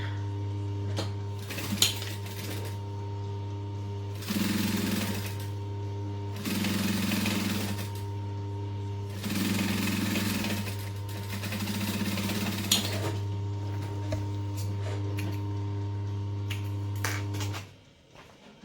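Sewing machine stitching a backpack, a steady motor hum with several bursts of rapid needle clatter, close and moderately loud, with no speech.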